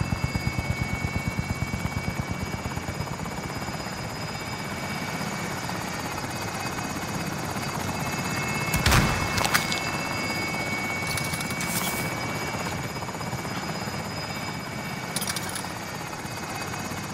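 A helicopter flies in Call of Duty Warzone, its steady rotor thrum and buzz continuing throughout at moderate level, with a few brief sharp bursts of other game sounds partway through.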